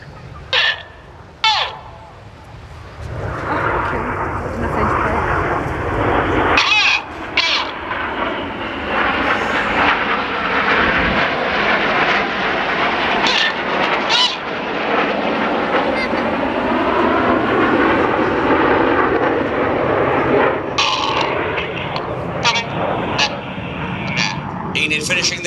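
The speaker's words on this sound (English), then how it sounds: "The inside pilots pitch to the outside as they fly the rollbacks." Red Arrows jets fly an aerobatic display with synchronised rollbacks over Ayr, a loud, sustained jet roar that swells and fades as the aircraft pass, with a voice talking over it.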